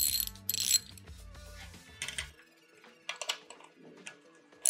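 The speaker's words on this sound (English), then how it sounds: "We're going to take our 13 millimeter ratchet and our 13 millimeter wrench." A 13 millimeter ratchet loosens bolts on the caps of RO membrane housings, giving a run of quick clicking pawl ratchets and small metallic clinks, close and moderately loud, with no talk.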